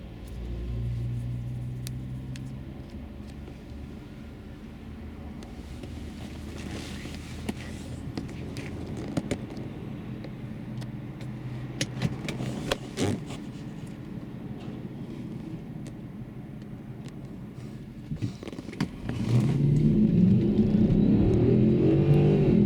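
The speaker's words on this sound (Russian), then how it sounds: "И мы смотрим его разгон. Вот на газу автомобиль." A Volkswagen Touareg V8 4.2 FSI running on LPG accelerates, its engine a low continuous rumble that builds and swells into a louder, fuller roar near the end, with no talk over it.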